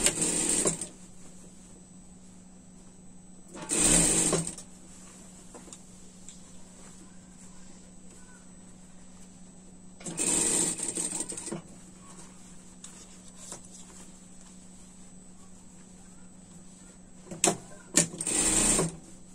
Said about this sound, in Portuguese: Vamos colocando tudo pra dentro e passar a costura aqui.